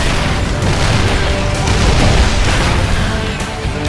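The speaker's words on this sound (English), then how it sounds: "He's going to lose that siege tank. Goodbye, siege tank." In a StarCraft match, a siege tank is destroyed amid dense, continuous game battle noise with booms and weapon fire, loud throughout and without voices.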